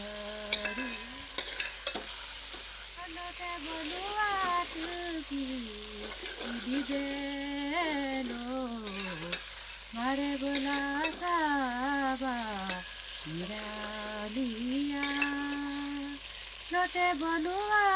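Marinated chicken and onions fry in a pan over medium heat, giving a soft, steady sizzle with stirring scrapes, heard beneath melodic background music.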